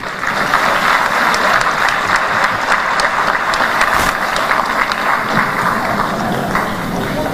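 Loud, continuous applause from a large lecture audience at a university public lecture given by Namibia's president, dense and steady with no break.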